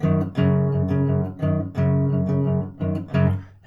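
An acoustic guitar plays part 4 of a song alone, with bass notes on the open sixth string and the fifth string picked in a steady pattern, close and resonant, in short bursts with brief gaps.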